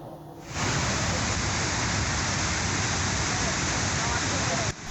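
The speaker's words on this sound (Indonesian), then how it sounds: "Pemirsa, terus diguyur hujan deras, banjir bandang menerjang wilayah selatan Kabupaten Brebes, Jawa Tengah." Heavy rain during flash flooding in southern Brebes, Central Java, a dense, steady hiss that starts abruptly and holds loud until it cuts off near the end.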